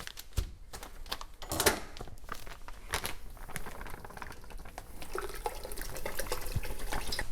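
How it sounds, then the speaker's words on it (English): Dextrose being stirred into a homebrew beer mix: irregular sloshing, scraping and knocking of a spoon in liquid, with a few sharper clacks and a steadier watery swirl building toward the end. "Give that a good stir to make sure there's no lumps"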